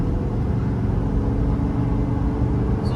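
A 1997 Toyota Land Cruiser Prado with a 3.0 diesel engine accelerating up to speed, heard as a steady, loud, close engine drone throughout.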